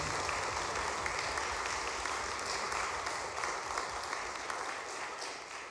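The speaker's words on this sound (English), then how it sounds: "one more round of applause, please, for our guest artists" A concert audience applauds after a college jazz singers' performance. The clapping is steady and crowded, comes from a mid-distance hall, and tapers slightly near the end.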